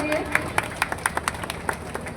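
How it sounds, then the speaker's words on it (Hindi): Scattered, uneven hand claps from an outdoor audience at a forest-festival tree-planting ceremony, greeting the local forest management committee president; a dozen or so sharp claps, moderately close, with background murmur. "जोरदार तालियों से स्वागत कीजिए"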